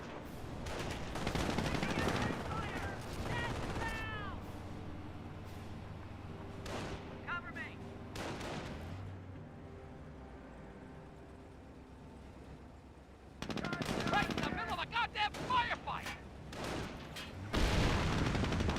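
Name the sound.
MG42 machine gun fire in video game Company of Heroes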